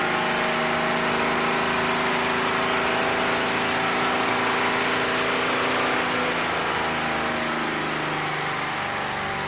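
Engine running steadily under load during a dyno tuning pull with a timing-adjusted tune, a loud continuous drone with stable harmonics that holds evenly throughout, alone without talk.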